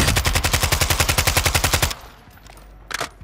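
Automatic gunfire aimed at the player in a Call of Duty match cracks out as a fast, loud burst of about twenty evenly spaced shots over two seconds, then stops, leaving a quiet lull and one brief later noise.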